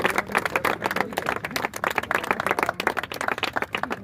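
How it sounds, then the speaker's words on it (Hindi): Dense, lively clapping and applause from a crowd at the opening of a Lucknow cricket academy, continuous and fairly close for several seconds. "आज जोरदार तालियां"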